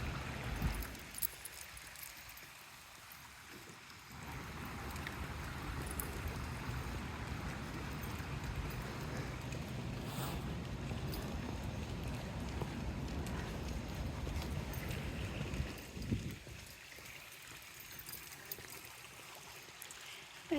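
A rain-swollen stream flowing steadily outdoors on a rainy day, a soft continuous rush of water with faint footsteps and rustles from a walk nearby.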